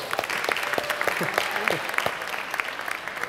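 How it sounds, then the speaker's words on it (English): A crowd claps and applauds steadily at RuneFest 2017, a RuneScape fan convention, with scattered cheers and voices mixed in beneath the clapping. "let's give him a round of applause"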